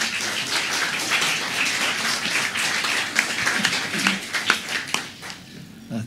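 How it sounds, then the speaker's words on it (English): An audience gives a round of applause for speaker Will at a talk: moderate clapping from a modest crowd, thinning into scattered individual claps toward the end. "Please, round of applause for Will,"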